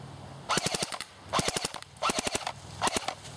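An AGM MP007 MP40 airsoft AEG fires full-auto in four short, rapid bursts, each a quick mechanical rattle of shots separated by brief pauses, loud and close with no talking.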